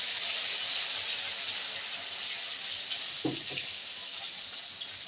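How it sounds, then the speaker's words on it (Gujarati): Ginger garlic paste hitting a hot pan gives a steady broadband sizzle throughout, with a brief clatter partway through and no talking. "પછી આ આદુ લસણ પેસ્ટ બનાવેલું છે એ નાખી દઈશું"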